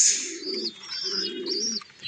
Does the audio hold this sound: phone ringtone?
no